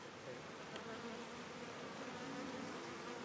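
A dense, steady buzz of many honey bees, a faint continuous drone with individual insects whirring past now and then.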